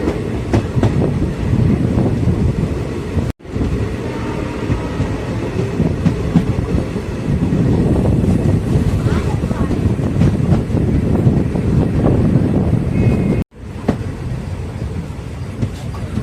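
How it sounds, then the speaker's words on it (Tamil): A train rumbles steadily with rhythmic clickety-clack at Rajapalayam railway station, loud and close, with two brief dropouts along the way. "ராஜபாளையம் ரயில்வே ஸ்டேஷன் ரீச் பண்ணிட்டோம்."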